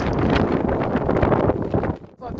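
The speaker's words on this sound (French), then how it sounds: "il y a beaucoup de vent" Strong wind sweeps across a mountain ridge on a hike up to a citadel, roaring and buffeting the microphone as continuous loud rushing that dips briefly near the end.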